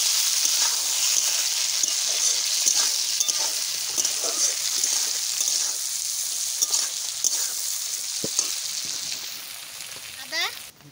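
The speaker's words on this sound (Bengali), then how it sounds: "প্রথমে তো ভাজা করেছি, আবার ভাজা করে নিচ্ছি, একসাথে সব কষাই নিচ্ছি।" Vegetables, soybean chunks and soaked peas fry and sizzle steadily in a pan, a continuous bright hiss with occasional stirring scrapes, close and fairly loud throughout.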